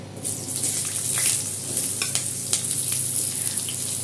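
Potatoes sizzle steadily in hot oil that was first tempered with nigella seeds, a dense, continuous frying hiss with occasional stirring scrapes and small pops throughout, close by and without talk.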